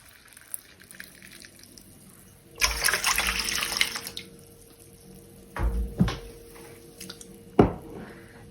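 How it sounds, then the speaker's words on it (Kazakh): Hot water poured into a cup of milk for pirozhki dough, heard as a few short splashy pours with gaps of quiet between them, close and fairly soft. "үстіне 1 стакан ыстық су құятын боламын."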